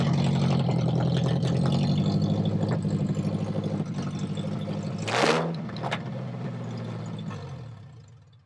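Swapped engine in a 1979 Toyota Corolla runs loud and close at a steady rumbling idle, with a sharp burst of revving near the middle before settling back and fading at the end.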